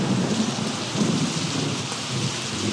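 Heavy rain pours in a steady, dense hiss with a low rumble of thunder rolling underneath, continuous and enveloping, no voices.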